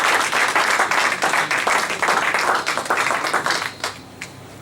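A church congregation applauds steadily for several seconds, a dense wash of many hands clapping up close, then tapering off into a few scattered claps at the end.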